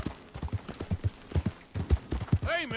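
Rhythmic hoof clip-clops of a horse walking in Red Dead Redemption 2, steady and close, with a game-like musical flourish near the end.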